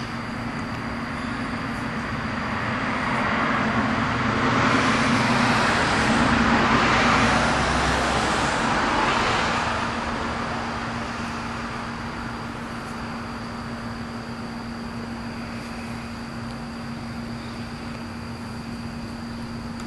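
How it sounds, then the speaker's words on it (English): Outdoor road traffic passing, a broad rushing swell that builds as a vehicle approaches and fades as it passes, then settles into a steady background hum with no talking. "Just enjoying the traffic going by"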